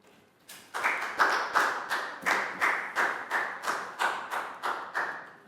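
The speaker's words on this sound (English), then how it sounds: "a big round of applause for Nadia." A small group of primary pupils in a Year 3 classroom claps for a classmate, about a dozen separate, rhythmic claps in unison that sound close and fairly soft.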